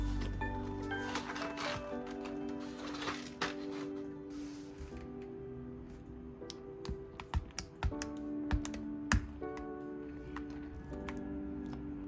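Typing on a GMK67 mechanical keyboard fitted with KTT Kang White switches and Cherry-profile keycaps: a quiet, fairly steady run of clacks and keystrokes, with a few louder thocks near the end, over a soft tonal background.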